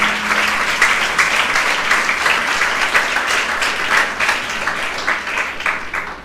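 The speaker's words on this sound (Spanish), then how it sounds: "damos un aplauso al Señor" A church congregation applauds steadily through the whole stretch, a dense, sustained wash of many hands clapping together in a large room, with no one speaking over it.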